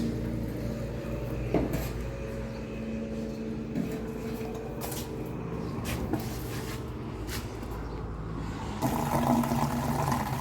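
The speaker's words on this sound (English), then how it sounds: "Now I'm filling water." Water being filled into a CW 3000 industrial water chiller that is not working: a steady rushing, sloshing fill with occasional knocks and clunks of handling, close and continuous over a low background hum, without speech.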